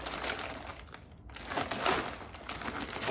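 A foil windscreen for a camping stove crinkling as it is handled, close and soft irregular rustling and crumpling with a short quiet gap partway through.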